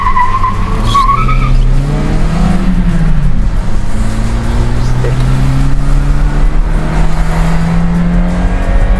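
An old Toyota Innova with a remapped engine spins in a 360 and skids, its tires squealing in long rising and falling whines over a loud, steady engine roar, close up and continuous.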